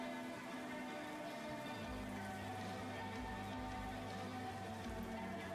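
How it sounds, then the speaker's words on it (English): Heavy rain pouring down in the horror game Land of Ghosts, a steady dense hiss of drops drumming on surfaces that runs continuously and loudly throughout, with a low droning hum beneath. "Raindrops. Oh my god, it's really loud now."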